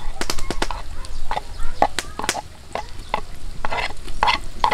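Potatoes stirred and fried in oil in a pan outdoors, with a steady sizzle under sharp, repeated scrapes and clanks of the utensil against the pan.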